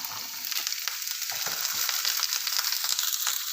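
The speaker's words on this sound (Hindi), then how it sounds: "और इन्हें भी जिंजर और गार्लिक के साथ अच्छे से फ्राई कर लेंगे।" Long beans fry with ginger and garlic in a pan, giving a steady, continuous hiss with faint scraping stirs throughout; nobody speaks.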